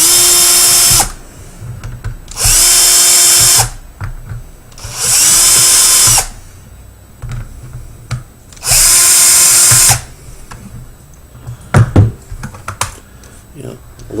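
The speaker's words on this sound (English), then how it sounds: "that's as easy as removing the 1, 2, 3, 4 screws right here." A power screwdriver whirs in four loud, close bursts of roughly a second each while backing screws out of the RAM and wireless-card cover on a Dell Inspiron 1545 laptop, with quieter handling and clicks in the gaps between bursts.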